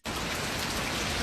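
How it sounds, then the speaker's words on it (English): Steady outdoor rain pours down in a dense, constant hiss, close and loud, with no break and no voices. "We're gonna go out into the rain."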